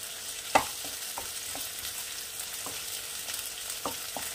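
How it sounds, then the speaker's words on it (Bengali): Chicken for tehari sizzles in a pan while being stirred, with a low steady frying hiss and several soft scraping clicks from the utensil, one sharper knock near the start. "একটু নাড়াচাড়া করলাম।"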